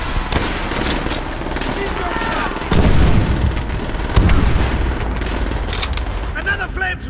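A fuel tank explosion and gunfire in the World War II shooter Call of Duty: World at War: a dense, continuous battle din with heavy booms rolling through it and game voices mixed in.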